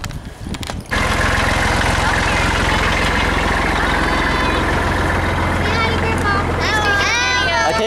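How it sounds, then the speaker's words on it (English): A steady, rumbling old Kubota tractor engine idles loudly and continuously after a brief quieter start, pulling a Halloween hayride, with children's voices chattering over it near the end. "The hayride is ready to go, pulling her with the old Kubota tractor."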